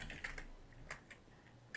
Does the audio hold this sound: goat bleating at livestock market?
no